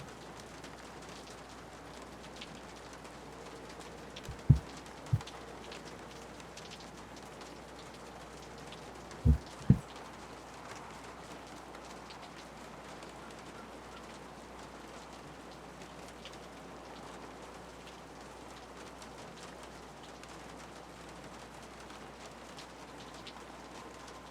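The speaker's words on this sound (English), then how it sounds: "you can hear the rain" Rain ambience in the Nancy Drew: Legend of the Crystal Skull game: a steady, quiet wash of falling rain that carries on throughout, broken by a few sharp isolated knocks, with no voices.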